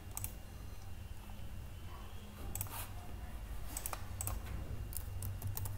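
Scattered computer keyboard keystrokes click sparsely and fairly faintly over a steady low electrical hum, in a few irregular clusters.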